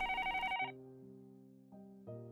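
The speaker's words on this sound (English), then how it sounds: "The next moment, the phone rang." A telephone rings in the visual novel game Higurashi, a bright electronic bell tone at the start that gives way to sustained, mellow synthesized chords, fairly quiet and with no voices.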